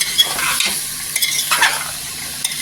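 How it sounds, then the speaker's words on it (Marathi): Vegetables for veg pulao stirred and sautéed in hot oil in a pan, a steady loud sizzle with scraping spoon strokes and a few clinks, heard alone without talk. "तेलावर परतून घ्यायचं छान असं"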